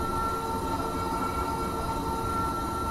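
An SLT train in Train Simulator 2019 moves to a siding, giving a continuous rail rumble with steady high tonal whines and squeal. It is heard alone at an even level.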